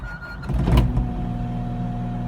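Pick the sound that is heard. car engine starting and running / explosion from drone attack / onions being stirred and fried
car engine starting and running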